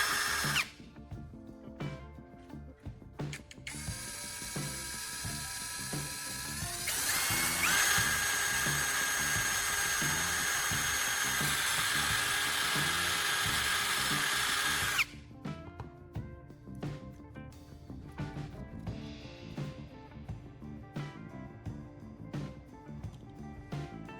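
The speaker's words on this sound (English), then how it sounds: "I drill the holes and get the CD ready for the next components." A high-pitched power drill whines steadily for several seconds drilling holes in a CD, then stops, followed by faint handling clicks and taps close by.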